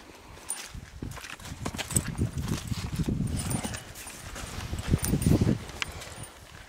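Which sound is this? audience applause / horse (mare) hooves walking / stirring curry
horse (mare) hooves walking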